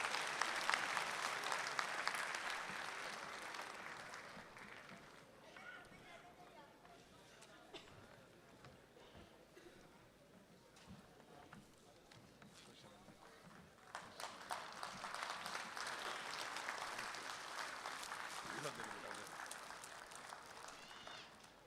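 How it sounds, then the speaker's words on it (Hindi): Applause from the audience at a Republic Day mushaira in Dubai swells, fades to a lower patter with crowd murmur, then rises again into a full, sustained round of clapping. "तालियों में कंजूसी नहीं होनी चाहिए।"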